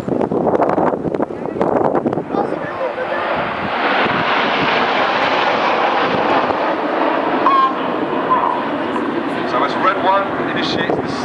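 Red Arrows jets fly the Apollo Twister formation at the 2011 Koksijde airshow in Belgium. A loud, continuous roar of jet engines swells and rushes past with wind buffeting, while a voice talks over it.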